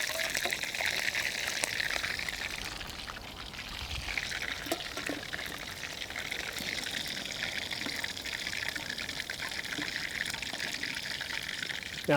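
Pork pieces fry in hot oil, and a dense, steady sizzle and crackle carries on without a break, loud and close for the whole stretch.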